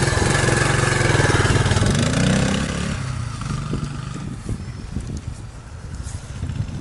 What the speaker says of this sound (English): It's hard not to be happy riding a vintage 4-stroke Honda.